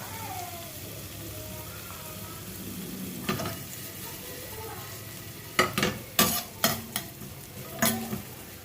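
Ginger frying in a pan while quail pininyahang is cooked, a low steady sizzle broken by several loud, close scraping stirs of a utensil against the pan in the last few seconds.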